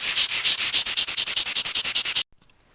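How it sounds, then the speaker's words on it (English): Wood being hand-sanded with 220-grit sandpaper on a wooden vise, a quick steady run of about twenty rhythmic back-and-forth rasping strokes, close and fairly loud, stopping abruptly near the end. "Let's finish things off with a bit of 220 sandpaper."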